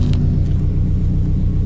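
A Subaru WRX with an anti-lag setup idles close by, giving a loud, deep, pulsing rumble that stays steady through the short stretch.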